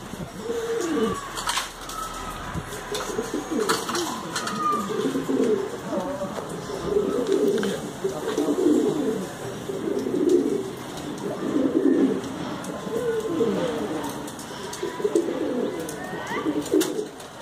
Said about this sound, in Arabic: خوتا هما الحمام هنايا وما حنا طلقناهم